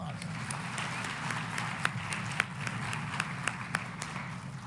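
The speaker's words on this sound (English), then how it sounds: "Everybody, let's give her a round of applause." A conference audience of mayors and officials applauds steadily throughout, with a dense, even wash of clapping and a few sharper individual claps standing out.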